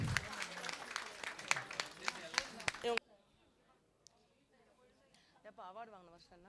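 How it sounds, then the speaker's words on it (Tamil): Audience at a Vellore municipal school teachers' event breaks into dense, loud clapping for about three seconds, then the applause cuts off and a voice speaks quietly afterward. "காமராஜர் விருது பெற்ற அப்பள்ளியை நம்முடைய நகரவை சார்பாக கரகோஷம் எழுப்புமாறு அன்புடன்"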